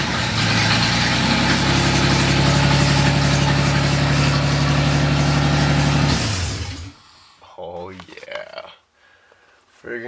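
A 1985 Toyota with a swapped-in 5VZ-FE V6 runs at a steady, loud idle for about six seconds, then the engine note drops away, leaving quieter sounds with a voice talking.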